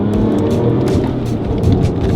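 A Porsche 996 Turbo engine roars steadily and loudly under boost from inside the cabin, holding a strong droning pull throughout.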